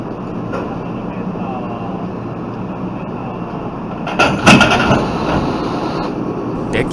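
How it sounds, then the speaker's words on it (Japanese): A steady rumble of idling JR 105 series rail cars, then a sudden metallic clunk as two 105 series trains bump and couple together, followed by a hum. "これからこの列車たちは連結作業に入ります。"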